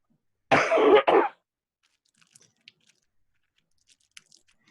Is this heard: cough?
yes